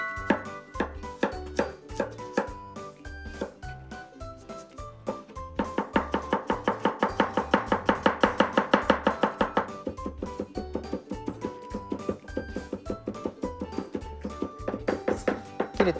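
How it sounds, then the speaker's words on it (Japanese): A knife rapidly and finely minces garlic on a cutting board, close, crisp taps in a fast even rhythm that speeds into a dense flurry midway, with quiet background music. "まずニンニクみじん切りしちゃいましょう。"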